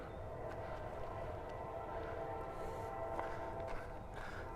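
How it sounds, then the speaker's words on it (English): A train rumbles steadily past a campsite, a continuous low, fairly distant roar with a faint tonal drone riding over it throughout and no voices. "you know the train sounds are always a thing."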